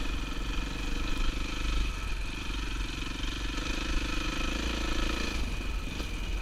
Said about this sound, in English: You just put it in whatever third, something like that, and just roll through it a little above idle.